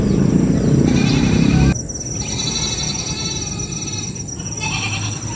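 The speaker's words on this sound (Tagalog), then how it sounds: "Maingay po ang mga kambing" Goats bleat loudly and close by, several overlapping nasal calls, then quieter bleating continues over a steady background hiss.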